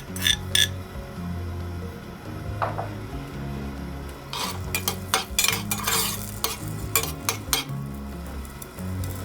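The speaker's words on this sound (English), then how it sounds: "So we're just gonna cook the scallions and the radish together for a little bit in some chili oil." Scallions cook in chili oil in a pan, giving a soft sizzle beneath repeated scraping and stirring, with metallic clinks and knocks of a utensil against the pan.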